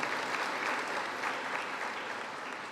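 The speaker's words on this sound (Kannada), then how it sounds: "ಒಮ್ಮೆ ಜೋರಾಗಿ ಚಪ್ಪಾಳೆ ಪ್ಲೀಸ್" A hall audience at a Dakshina Kannada district meeting of a nomadic communities federation gives steady, dense applause that holds evenly throughout, without talk.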